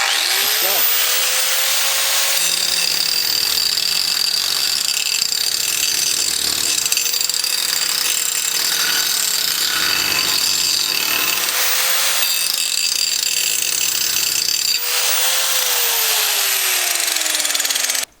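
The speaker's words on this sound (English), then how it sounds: "we're just going to be trying to round off the top of the bolt just like the Craftsman" A Hyper Tough angle grinder grinds down the top of a bolt with a loud, continuous high-pitched whine and metallic grinding, its pitch wavering slightly as pressure shifts, running steadily for the whole stretch.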